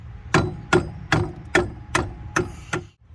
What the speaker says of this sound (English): take your hammer. Make sure you hit it.